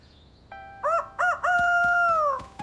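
A chicken in a video game gives short clucking notes that lead into one long, drawn-out call, clear and close with nothing else behind it.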